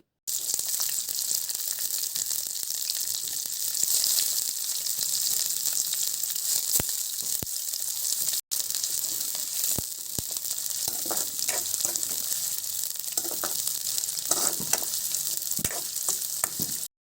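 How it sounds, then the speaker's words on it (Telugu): Green chillies and onion pieces fry in hot oil in a kadai, a loud, even sizzle that holds throughout, with occasional soft stirring clicks and no voices. "ఆయిల్ హీట్ అయిన తర్వాత కోసుకున్న పచ్చిమిర్చి ఉల్లిగడ్డ ముక్కలు వేసుకొని వేయించుకోవాలి"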